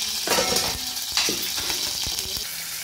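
Spices crackling and sizzling in hot oil for a tempering over tomato chutney, with asafoetida added, a steady close frying hiss broken by sharp pops and a few spoon taps.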